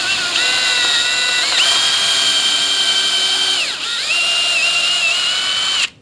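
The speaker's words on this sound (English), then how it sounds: "I want to go and pre-drill some holes, because if I go straight screw, it will crack the framing" A power drill pre-drills holes in wooden door framing during an entry door replacement, giving a loud, steady high whine for about six seconds. The pitch dips briefly midway and it cuts off abruptly at the end, with no talking.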